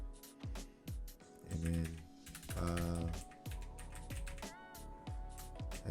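Computer keyboard keys clatter in an irregular rhythm of close, crisp taps and short bursts while typing in the Nano editor on Linux, with a voice speaking briefly.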